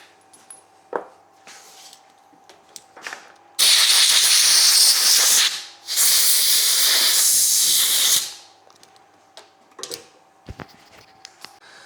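Compressed air blasts out a box of ER20 collets in a CNC machine shop: two loud, steady hissing bursts of about two seconds each, separated by a short gap, framed by quiet clicks and handling of small metal parts.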